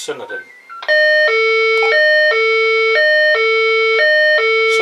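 Emergency call alarm tone on a TP8000 shunting radio, a loud repeating two-pitch electronic chime alternating in a steady rhythm, preceded by a brief burst of speech at the start.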